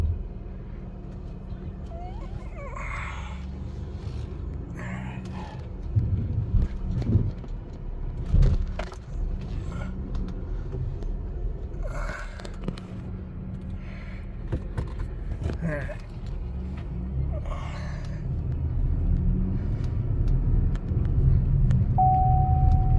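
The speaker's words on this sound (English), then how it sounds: "Car coming down the road." Cars passing on a road, a low steady rumble of tyres and engines that swells toward the end, with someone talking over it at moments.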